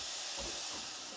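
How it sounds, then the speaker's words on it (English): Steam wand purge on a Breville Barista Express BES870 espresso machine: a loud, continuous hiss of steam, close and steady for its whole length, with no talking. "Just quickly pulse the steam to get rid of any milk on the inside."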